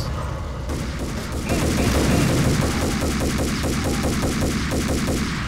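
Continuous rapid gunfire from the Max Payne video game, loud and dense bursts rattling without pause through the whole stretch, no talk over it.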